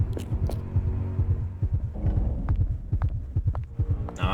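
A steady, throbbing heartbeat effect from the horror game Illbleed, held at an elevated pace, with regular low double thumps pulsing continuously over a dull hum and a few faint incidental game noises.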